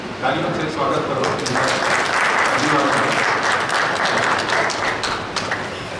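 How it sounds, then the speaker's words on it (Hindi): Sustained applause from an audience welcoming a guest at an honouring and question-answer gathering launching a legal aid clinic, dense steady clapping filling the whole stretch with voices mixed in. "तालियों से स्वागत करो।"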